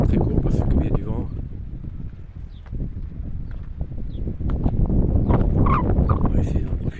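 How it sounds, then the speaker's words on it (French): Wind gusts past the microphone beside a lake, a loud, continuous rumbling buffeting heard under someone talking in French. "C'est vrai qu'il y a pas mal de vent"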